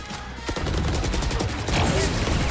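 Sustained rapid gunfire from a competitive shooter match, a dense burst of shots that intensifies midway and keeps going loud and close throughout.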